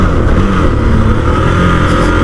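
A 2021 KTM Duke 390 BS6 motorcycle accelerates hard, its engine roaring loud and close in a steady, continuous drone with no voices.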